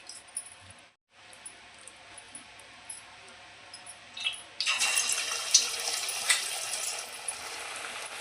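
Garelu, urad dal vadas, drop into hot oil in a Telugu home kitchen, and a broad frying hiss swells suddenly partway through after quieter kitchen sounds, then holds as a steady crackling sizzle.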